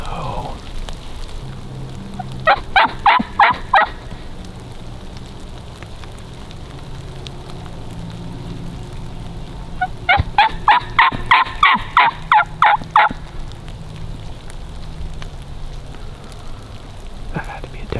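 A wild turkey gobbles in two rapid bursts during a spring turkey hunt, the rattling calls carrying from mid-distance over steady rain patter, with quiet hunters' voices nearby.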